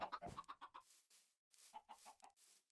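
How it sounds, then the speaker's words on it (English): Chicken in the video game Minecraft clucking in two quick bursts of short, clipped notes separated by a brief pause, close and clear with no talk. "Chicken."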